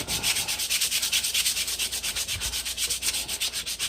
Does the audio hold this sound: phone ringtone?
no